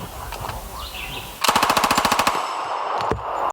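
A Thompson submachine gun fires one quick burst of about a dozen sharp, loud shots. A quieter stretch comes before it, and a single faint crack follows later.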